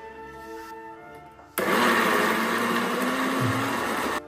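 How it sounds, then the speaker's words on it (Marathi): Kitchen mixer grinder grinding chili powder and salt with a little water, whirring loudly and steadily close by after a quieter start, running for about three seconds without a break. "थोडंसं पाणी घालून वाटून घ्यायचं"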